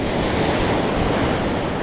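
Big ocean waves crash at a rocky fishing spot, a loud continuous roar of surf mixed with wind buffeting the microphone.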